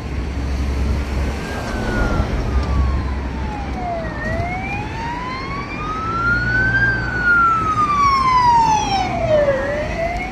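A police car siren wails loud and steady near a bridge where people fish, its pitch sweeping slowly up and down over constant traffic rumble.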